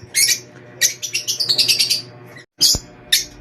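Pet birds in a cage chirp in quick bright bursts, several rapid tweets close by and then a couple of short calls after a brief pause.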